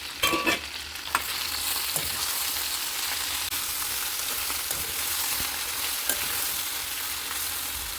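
Raw banana pieces stirred in a pan with turmeric, salt and chilli powder, a steady hiss of frying with a few knocks and scrapes of a spoon early on, then softer occasional stirring.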